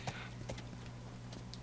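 Horse hooves clip-clopping at a walking pace in The Last of Us, quiet and somewhat muffled over a low steady hum, a few irregular clops.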